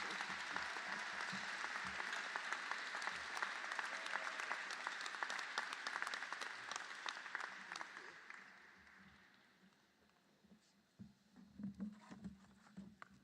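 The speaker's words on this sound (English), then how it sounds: "would you give a round of applause as we give her this small token of appreciation?" Audience applause for a District 7 councilwoman at a community college commencement ceremony, a dense sustained clatter of many hands that fades after about eight seconds, leaving quieter scattered sounds and some murmuring.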